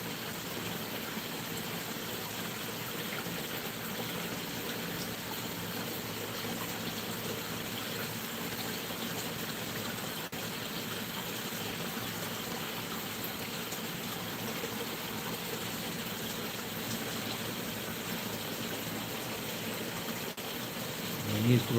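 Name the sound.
creek water flowing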